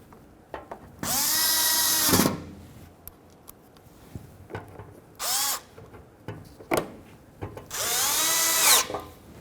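A power drill drives Phillips head screws into a plastic bumper shield in three separate bursts, each a close, loud whirring run of one to two seconds, with faint clicks and handling noises between them.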